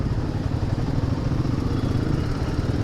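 A motorcycle engine on a test ride drones loudly and continuously at close range, with a steady throttle-driven roar and rumble throughout.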